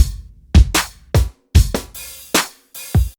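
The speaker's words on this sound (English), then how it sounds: "and our drum break sounds like this" A punchy drum break loop: kicks and snares hit in a tight, repeating groove with crisp cymbal wash, loud and alone with no talking.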